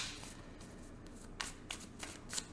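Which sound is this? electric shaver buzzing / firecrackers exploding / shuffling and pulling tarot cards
shuffling and pulling tarot cards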